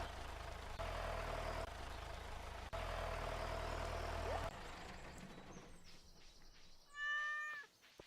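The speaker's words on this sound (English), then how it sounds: "Hey, kitty cat. Have some water." A cat meows in the Stardew Valley farming game, giving a few short rising cries near the end after a stretch of steady low hum and background game sounds.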